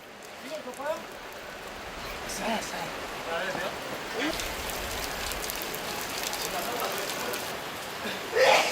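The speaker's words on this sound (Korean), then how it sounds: "지난 6월 4일 경기를 두 시간 앞두고 비가 쏟아지기 시작했다" Heavy rain pours down steadily on a ballpark ground hours before a baseball game, a dense, continuous hiss of drops striking surfaces with faint voices talking in the background.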